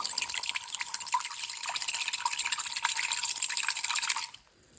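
Small screws rattle and clink inside a jar with water sloshing, a rapid continuous shaking that stops abruptly near the end.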